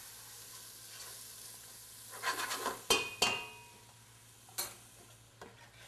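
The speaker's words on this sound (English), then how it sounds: "Using my silicone spatula, going to move that around." Rice is stirred in a sizzling pan with a silicone spatula: a quiet, steady sizzle, then a short run of soft scrapes and a few sharper knocks against the pan, close by.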